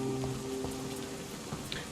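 Rain falls in the video game Vampyr: a faint, steady patter under a low, sustained hum, with no voices.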